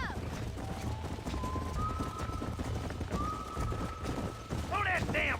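Horse hooves clopping in Red Dead Redemption, steady galloping rhythm under shouted voices and music, with a brief whinny near the end.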